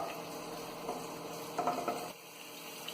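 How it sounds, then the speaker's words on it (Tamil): Chopped garlic sizzles in hot oil in a pan, a steady close frying crackle with a few brief stirring bumps, then quieter near the end. "இப்போ நறுக்கிய பூண்டு போட்டுக்கலாம். போட்டு நல்லா ஃப்ரை பண்ணிக்கலாம்."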